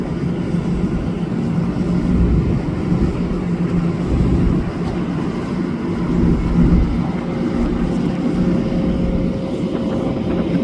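A diesel train with its cab car leading pulls into Babylon station on a rainy afternoon, a steady, loud low engine rumble holding for about ten seconds, with no voices.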